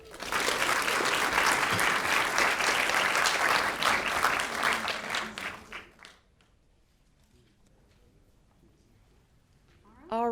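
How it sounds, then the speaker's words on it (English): An audience at a school scholars celebration gives a loud, sustained round of applause for about five seconds, then fades into a quiet room before a voice starts to speak. "Let's give them another round of applause"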